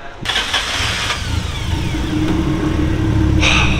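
An engine cranks briefly after a repair, catches, and settles into a steady, loud idle that rises slightly in pitch.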